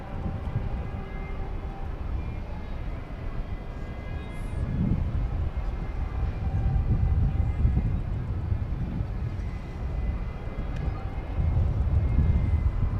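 An aircraft on the flight from Fresno moves at DFW Airport at night, with a steady low engine rumble and faint whine that swells slightly midway and holds at a moderate distance.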